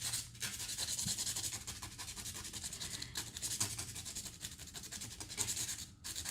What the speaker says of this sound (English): I'm gonna use 100 grit sandpaper over here